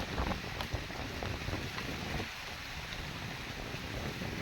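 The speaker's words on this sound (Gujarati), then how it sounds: "તો ભાઈ આજે વરસાદ જોવો પાછો ચાલુ થઈ ગયો છે" Continuous hiss of monsoon rain in a village mixed with gusty wind buffeting nearby, loud and steady with no voices.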